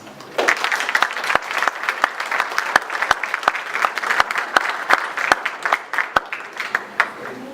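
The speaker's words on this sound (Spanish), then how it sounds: "una salva de palmas" An audience at a computing conference session applauds a presentation, many hands clapping in a lively, slightly uneven ovation that builds quickly and holds steady, with sharp individual claps standing out near the front.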